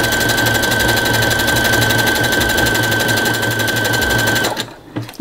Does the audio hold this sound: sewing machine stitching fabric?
yes